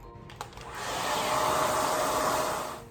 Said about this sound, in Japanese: もう今日は普通に乾かします。